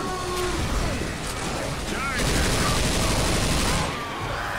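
Gunfire in the Left 4 Dead co-op Crash Course campaign: dense, continuous bursts of automatic fire and shots fill the whole stretch, loud and close, with a voice faintly mixed in.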